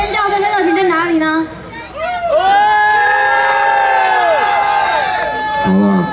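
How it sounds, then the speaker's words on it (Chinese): A crowd screams and cheers at a dance performance during a temple procession in Taichung, the shrill voices sustained and loud, with children's shouts standing out and chatter running throughout. "现场朋友的尖叫声跟热情在哪里呢？"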